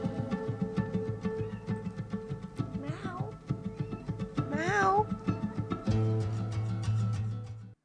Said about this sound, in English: My cat came in meowing at me.